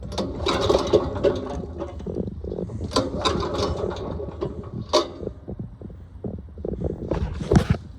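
A jammed Jansen GTS-1500 wood chipper labors in uneven bursts, knocking and grinding with irregular thumps rather than a steady hum, fairly close, with no one talking.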